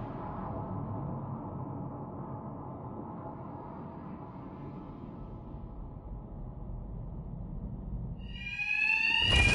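A ringing alarm in a Batman video game rises suddenly near the end, loud and shrill over a steady low rumble of background game noise.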